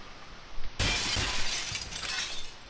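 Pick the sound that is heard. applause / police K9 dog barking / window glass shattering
window glass shattering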